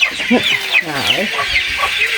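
Chickens cluck and squawk nearby in a busy, uneven chatter, with higher calls overlapping lower clucks.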